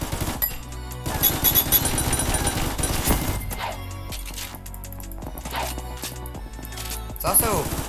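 Rapid weapon fire in the Ragdoll Universe video game rattles in quick repeated bursts with game effects, while a person talks over it throughout.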